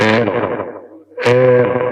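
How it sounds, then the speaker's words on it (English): A man counts into a microphone on a CRT 6900 radio with heavy reverb applied, his voice washed and echoing in two bursts, close and loud. "Too much reverb."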